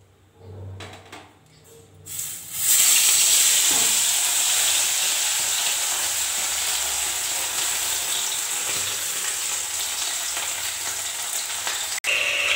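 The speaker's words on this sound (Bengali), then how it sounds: "দেখো বন্ধুরা, মাছগুলো আমি ভালো করে ভেজে নিচ্ছি" Fish (bata) fries in hot oil in a wok. A quiet start gives way to a loud, steady, close-up sizzle that holds for about ten seconds, with a brief sharp click near the end.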